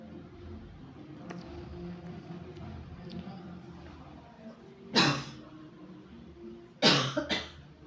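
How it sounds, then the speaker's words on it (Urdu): A woman with a lingering cough lets out two harsh coughing fits, the second a quick double burst, against a quiet indoor background with faint household noise. "یہ میری کھانسی ابھی تک نہیں گئی ہے."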